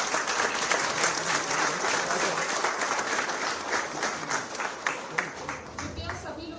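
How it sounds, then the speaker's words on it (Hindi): Ceremony audience applauding a minister at a golden jubilee celebration, sustained loud clapping from a large crowd that tapers into separate, sharper claps toward the end, with some voices faintly underneath. "एक बार फिर तालियों के साथ मंत्री जी"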